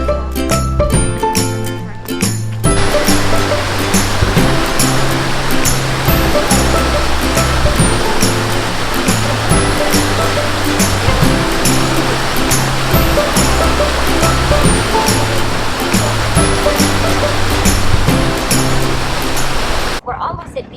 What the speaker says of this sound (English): the falls is right there